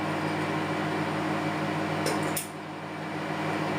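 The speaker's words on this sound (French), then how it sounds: "faire fondre le beurre, c'est ce qu'on est en train de faire" A Thermomix runs steadily as butter melts in its bowl, a constant mechanical hum with a brief clatter near the middle before the drone drops slightly and carries on alone.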